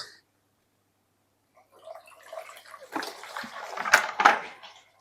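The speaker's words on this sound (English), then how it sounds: "So using some water, let's do it. So we pour some water in." Water is poured into a plastic gutter to test its flow, a quiet trickle and splash that starts after a pause and builds to closer sloshing bursts near the end.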